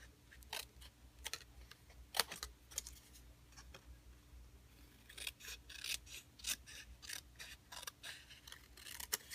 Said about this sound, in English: take it to your trimmer, and you're going to cut a 1/4 inch off again